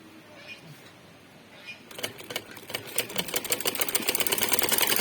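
Sewing machine stitching fabric along the side seams of a frock, starting after a quiet stretch with a few short bursts, then running faster and louder in a continuous close whir.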